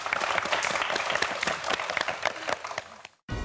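A studio audience on a Korean science quiz show claps warmly and steadily, loud and close, before the applause cuts off abruptly near the end.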